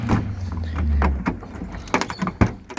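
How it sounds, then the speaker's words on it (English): A car door on a Nissan 180SX in perfect condition is worked open, giving a few sharp clicks and clunks near the end after a low, steady hum. "see if I can open the door."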